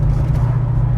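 Chevrolet Camaro Z28 pulling hard under acceleration, a deep steady engine drone heard from inside the car, loud and continuous with no talk.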